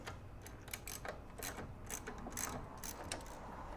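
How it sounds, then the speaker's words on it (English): A ratchet wrench clicks as bolts are removed from the grille of a 1943 Willys MB jeep. Rapid bursts of metallic ratcheting repeat in short strokes, fairly close but quiet, over a faint background hum. "Let's go ahead and take the bolts out."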